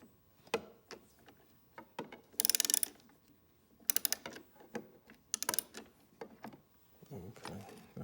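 Hex key clicking and ratcheting against screws while fitting a Kuryakyn upper air deflector on a 2018+ Honda Goldwing, with close, irregular metallic ticks and short bursts of bright scraping.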